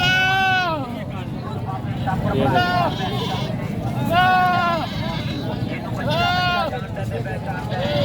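Goats bleat repeatedly at a livestock market, several loud drawn-out calls close by, over constant crowd chatter and people talking.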